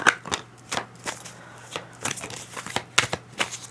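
Tarot cards being shuffled close up, a quick run of crisp papery riffles and flicks in uneven bursts, fairly soft against a quiet room hum.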